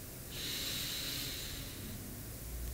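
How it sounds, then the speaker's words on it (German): A slow, steady inhale through the nose, close to the microphone and soft but clear, a breathy hiss lasting about two seconds during a quiet relaxation exercise. "Einmal noch durch die Nase ein."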